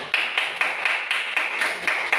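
Classroom clapping in unison, a small group beating out a quick regular rhythm of about nine distinct claps, close and moderately loud.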